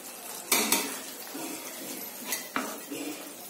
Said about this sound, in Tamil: சேர்த்து நல்லா கிளறி விட்டுக்கோங்க